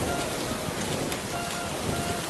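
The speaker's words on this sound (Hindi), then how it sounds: "ये बारिश तो रुकने का नाम ही नहीं ले रही है" Steady rain pours down in a dense, continuous hiss, loud and unbroken throughout with no voices.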